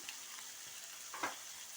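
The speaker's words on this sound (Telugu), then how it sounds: "అల్లం వెల్లుల్లి పేస్ట్ వేసుకున్నాను." Ginger garlic paste fries in a pan with a soft, steady hiss, joined by a brief stirring scrape partway through; quiet and close, with no voices.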